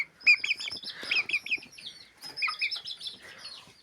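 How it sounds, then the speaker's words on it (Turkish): High, thin peeping chirps from chicks, repeated in quick bursts with short pauses, fairly close and clear. "Baxın nə qəşəng cücədir, ayaqları tüklü."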